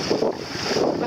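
Wind rushes over a Pacer sailboat out sailing, a loud continuous roar of gusts across the microphone with water wash beneath.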